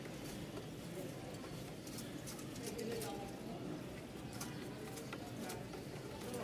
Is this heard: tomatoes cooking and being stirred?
no